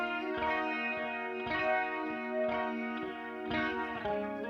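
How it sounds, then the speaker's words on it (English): Sustained electric guitar chords ring out in a repeating pattern, wrapped in a lush, unusual non-linear reverb that blooms and cuts off abruptly. "Just a unique sounding reverb."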